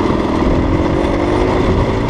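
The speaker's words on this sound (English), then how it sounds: "Listen to engine braking." A motorcycle with an auto-clutch engine braking in gear, its engine giving a loud, steady low rumble close by, with no throttle blips or gaps over the short stretch.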